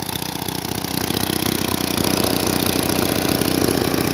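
A lawn mower engine with a carburetor in really bad condition idles roughly up close, running as a loud, continuous, uneven chugging throughout.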